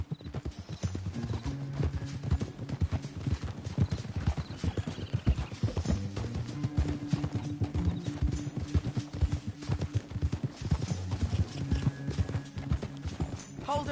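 Horse hooves clip-clop steadily and loudly in a video game, with an occasional neigh over a low musical drone and ambient game sound.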